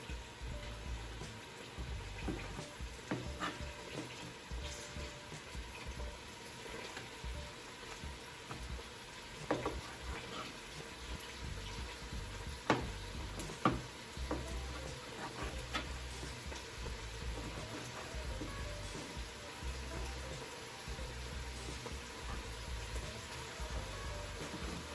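Chicken pieces fry in an Instant Pot with a faint, steady crackling sizzle and scattered soft ticks and pops, low and continuous throughout with no talking.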